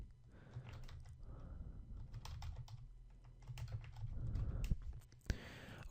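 Keys clatter steadily on a computer keyboard as text is entered, a quiet run of irregular clicks with a sharper tap near the end.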